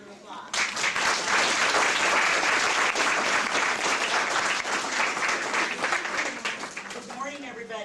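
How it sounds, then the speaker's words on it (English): An audience at an Earth Day speech showcase breaks into loud, sustained applause that gradually thins out toward the end. "Let's give her a round of applause."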